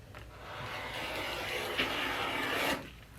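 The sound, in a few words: rotary cutter cutting a fabric strip for quilt squares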